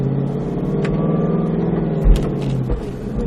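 A Roush Mustang RS3 accelerates on the Speed Vegas track after an upshift to second gear, its engine giving a steady, droning mid-low rumble that swells slightly, with a brief thump near the end.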